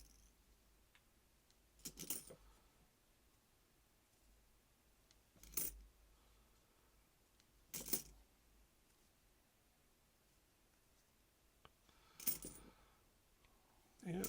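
Coins clink and jingle in four sparse bursts as fingers dig through a box of quarters, close and crisp over near-silence.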